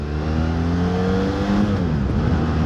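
A BMW F 700 GS motorcycle accelerates hard on a main road, its engine note climbing loud and steady, then shifting gear with a brief dip before rising again, heard from on board.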